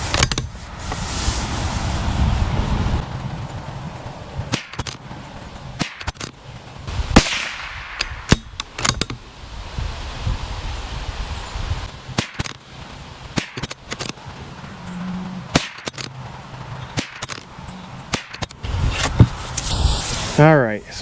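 A bolt-action .22LR rifle, a Lilja-barreled CZ457 or Tikka T1X, fires Remington Golden Bullet bulk ammunition, giving a string of sharp, separate cracks spaced several seconds apart, with talk and handling noises in between.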